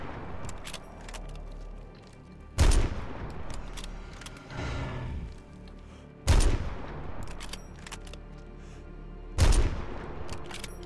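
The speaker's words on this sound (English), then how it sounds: "bullets are not going, they're not hitting where they're supposed to be hitting" Gunfire in the survival video game DayZ: three loud, sharp bursts spaced a few seconds apart, each ringing out over a steady low rumble, with no voices.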